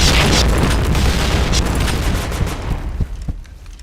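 A loud, booming grenade blast in a shooting video game opens with a heavy rumble that slowly decays, with scattered gunfire crackling behind it and no speech.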